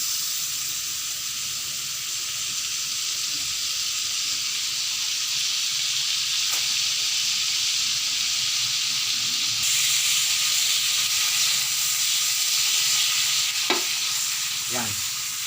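Adobo sizzles steadily in a hot frying pan during sautéing, a loud continuous hiss with a few sharp clinks of a utensil near the end.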